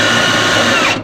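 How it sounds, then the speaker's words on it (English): Power drill running steadily and loud at close range while work is done on a VW Baja Bug's accelerator cable, a continuous motor whine that cuts off abruptly at the end. "when I hit the drill"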